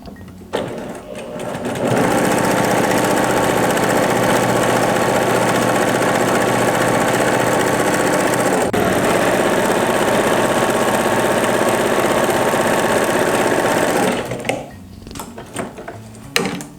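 A sewing machine runs steadily for about twelve seconds, stitching a half-centimetre seam while finishing a quilt. The machine is loud and close, with quieter handling noises before and after the run.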